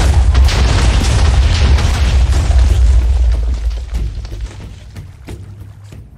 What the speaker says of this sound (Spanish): Plantó dinamita y empezó a explotar también los edificios.